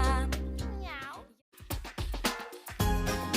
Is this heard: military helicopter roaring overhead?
no